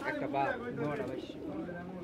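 Pigeons coo close by at Saruliya pigeon market in Bangladesh, soft, throaty, rolling calls, with a bustling background murmur.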